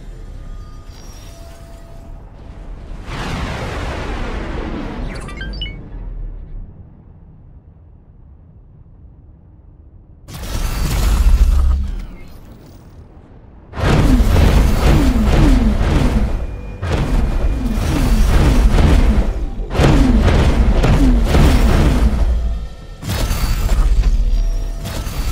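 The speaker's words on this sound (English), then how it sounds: "Explosion imminent." Explosions in the space game X4: Foundations: several heavy booming blasts in separate bursts after an earlier rumbling sweep, loud and close, with quieter gaps between them.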